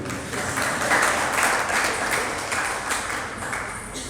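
Audience applause in a Hindi lecture hall, steady broadband clapping from a large crowd held at an even level for about four seconds, with no voices over it.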